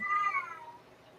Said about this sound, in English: Jay's cat is screaming for help